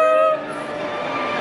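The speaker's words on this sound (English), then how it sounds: "we about to get on the train" A train passes close by, a loud horn blast at the start giving way to a steady rumbling roar of rolling cars.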